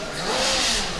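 A Formula Student race car at the FSG22 endurance event pulls onto the track from the starting line, its engine revving in a loud, continuous roar that swells slightly midway.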